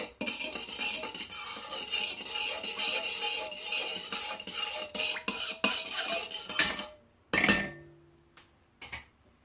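Bread dough ingredients with baker's yeast and sugar being stirred in a bowl, a continuous close scraping and clinking of a utensil against the dish, ending with a few sharp knocks, no talk.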